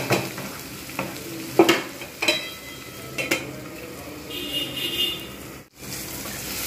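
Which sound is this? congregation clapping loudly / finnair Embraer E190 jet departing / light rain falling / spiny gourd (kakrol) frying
spiny gourd (kakrol) frying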